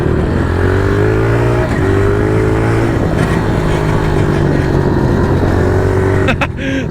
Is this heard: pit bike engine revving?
yes